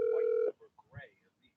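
An unanswered telephone call gives one steady ringback tone for about half a second, then stops, followed by someone speaking briefly.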